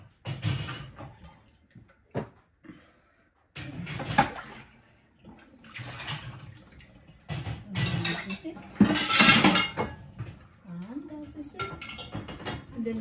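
Dishes, spoons and forks being washed at a kitchen sink, with running water and repeated clinks and clatters of utensils and crockery in bursts, close and fairly loud, broken by short pauses.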